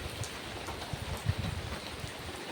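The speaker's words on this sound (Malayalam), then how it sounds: "മഴ കുറച്ച് കുറയട്ടെ" Steady rain falling, a soft continuous patter with occasional louder drops, moderately close and fairly quiet, with no voices.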